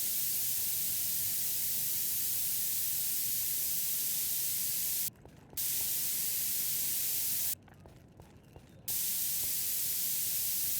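A spray gun hisses loudly and continuously while painting a car in a mechanic video game, a broad steady spray broken by two short pauses.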